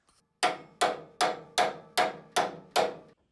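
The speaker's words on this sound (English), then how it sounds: "We gotta hammer that little pin out so that we can take this whole handle mechanism off." Seven evenly spaced sharp metallic hammer strikes drive a small pin out of a sawmill handle mechanism, each a crisp close ringing hit with a short decay, at a steady rhythm with no talking.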